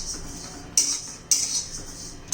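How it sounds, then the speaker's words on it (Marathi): Ajwain and white sesame seeds dry-roasting in a pan over medium heat, heard as three sharp metallic spoon scrapes against the pan at regular intervals over a faint background, with no talking. "त्यातच मी ओवा घालून घेते पांढरे तीळ घालून घेते छान आपलं मध्यम गॅसवर मस्त भाजून घ्यायचं आहे"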